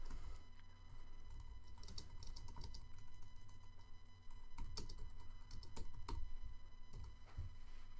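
Steady, fast typing on a computer keyboard, a dense patter of small clicks with brief pauses, close by and fairly quiet.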